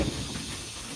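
A steam brake on an 1889 Porter steam locomotive lets out a brief, close, steady hiss that fades slightly.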